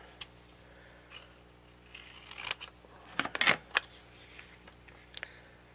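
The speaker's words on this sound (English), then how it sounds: "Oh, keep picking up these scissors." Scissors snipping a sheet of paper while assembling lace and fabric sample clusters for a file folder craft; a few quiet crisp snips cluster in the middle, faint against a low room hum, with no talking.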